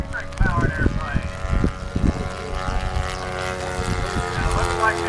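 Model airplanes at a Chino Valley war bird race fly past: a gasoline-powered plane gives a low rumble and an electric one a high squeal, with repeated loud passes over steady engine drone while people talk.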